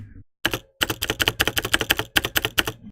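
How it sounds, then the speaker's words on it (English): A Razer keyboard spacebar is pressed about a dozen times in a quick, irregular burst. Each press lands as a loud, close, hollow clack with a slight echo, and no talk is heard over it. "this is my Razer keyboard spacebar"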